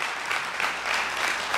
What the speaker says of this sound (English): Clap your hands if you believe it.